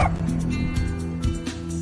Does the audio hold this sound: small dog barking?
yes